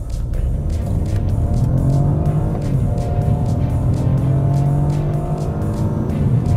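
A BMW 218i Gran Coupe with its turbocharged three-cylinder engine and M Sport package, set to Sport mode, accelerates hard from a standstill, its loud, steady engine drone climbing in pitch and filling the whole stretch.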